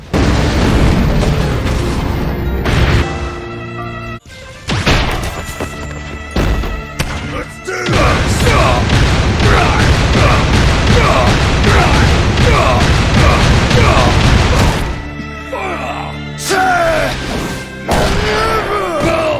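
Heavy fight impacts, booming explosions and crashing hits from the action game Asura's Wrath during a button-mashing brawl sequence, loud and dense with brief gaps, layered with game music and voice.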